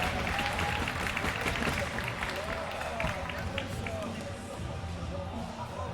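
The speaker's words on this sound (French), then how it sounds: "Applaudissements pour Antoine" Audience applause and crowd noise at the amateur final of a trottinette (scooter) competition, loud and dense, with cheering and talk mixed in throughout.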